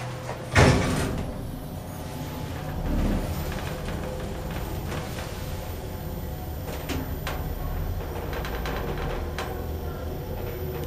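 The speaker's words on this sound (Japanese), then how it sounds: "上に参りますドアが閉まりますと自動的に上に参ります" An elevator door slides shut in an Osaka subway Tanimachi Line station, Nakazakicho, with a sharp thud near the start followed by a steady mechanical hum and faint clicks as the car runs.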